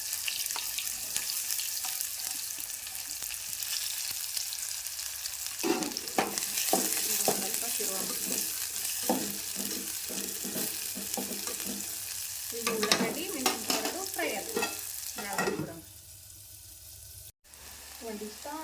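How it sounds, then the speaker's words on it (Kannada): Mustard seeds pop and splutter in hot oil in a home kitchen pan, a dense crackling sizzle with bursts of sharper spitting, fairly close and steady throughout. "ಸಾಸ್ವಿ ಚಟಪಟ ಅಂತ ಸಿಡಿಬೇಕು ರೀ ಎಣ್ಣೆ ಒಳಗೆ ಈಗ ನೋಡ್ರಿ ಸಾಸ್ವಿ ಅಂತ ಚಟಪಟ ಸಿಡಿಗತ್ತಾರ"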